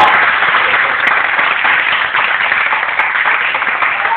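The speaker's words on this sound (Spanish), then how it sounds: "Un aplauso para Franco, que ahora es rico" An audience at a live show in a cavern venue applauds steadily and densely for several seconds. The clapping is loud and continuous from start to finish, with no talk above it.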